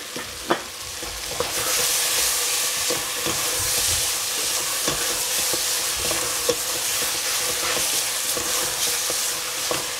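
Eggplant frying in cooking oil: a loud, continuous close sizzle and hiss, with a few sharp utensil clicks and stirring knocks scattered across it, and no talk.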